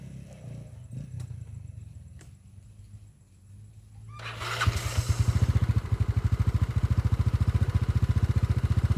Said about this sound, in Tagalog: nag-iingay pa yung motor ni Jomar eh